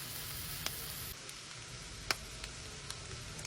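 Butter and chopped onion fry in a pan on the stove, giving a steady soft sizzle with a few faint ticks and pops, fairly quiet and without talk.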